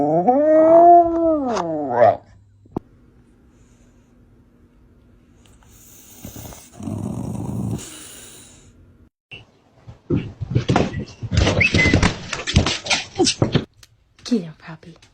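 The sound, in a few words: dog barking on command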